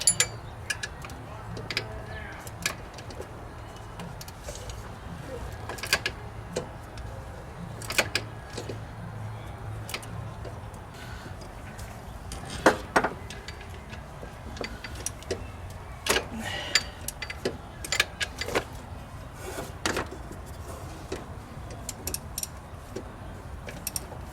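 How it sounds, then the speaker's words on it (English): Socket wrench working an alternator bolt in the cramped engine bay of a Pontiac Vibe, giving sparse, faint ratcheting clicks and taps at an uneven pace over a quiet background. "I'm going to tighten it down, which this is the hard part, just because of the lack of space."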